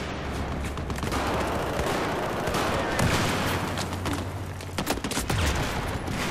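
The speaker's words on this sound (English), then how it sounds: "Someone has a big machine gun." Sustained, dense automatic gunfire from a big mounted machine gun in the shooter Battlefield 4, a rapid continuous rattle layered with other battle noise and explosions that fills the whole stretch loudly.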